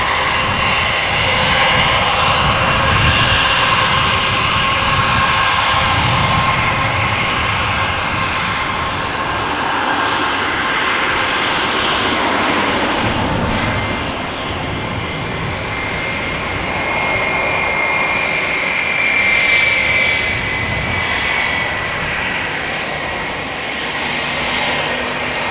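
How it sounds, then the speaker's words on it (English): KLM Airbus A321 jet on a flight to Madrid, its engines roaring loud and steady at an airport, a broad sustained rumble and whine that swells and eases slightly over about 25 seconds. "This is KLM flight 1503 to Madrid. It's an A321 by Privilege Stall."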